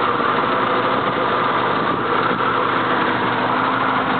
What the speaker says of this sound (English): Come out where you can hear the engine run.